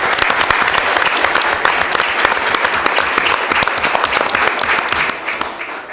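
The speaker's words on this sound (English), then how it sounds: "Let's give them a round of applause." Sustained applause from a meeting audience for high school award winners: dense, continuous clapping from many hands, loud and steady before tapering slightly at the end.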